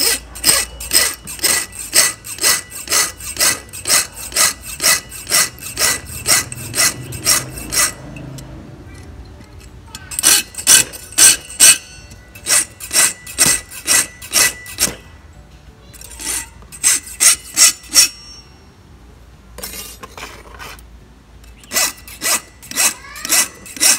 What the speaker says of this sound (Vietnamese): lưỡi cưa đây cắt cái ngạnh nha, nó sắc này